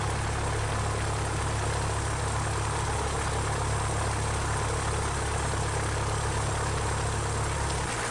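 A small training aircraft's propeller engine idles in a steady, loud, continuous drone during the pre-flight magneto check before takeoff, heard from inside the cabin with no talking.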